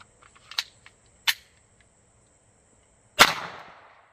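Three sharp, loud .22 rimfire shots from a Taurus TX-22 pistol loaded with old Remington High Velocity rounds, two close together and a third after a pause, each with a short ringing decay.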